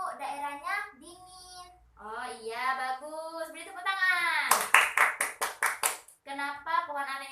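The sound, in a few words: classroom children clapping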